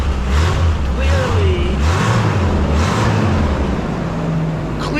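A quiet stock four-cylinder exhaust on a Chevrolet S10 truck burbles at idle, pulsing with a few gentle rises in revs, close by and low.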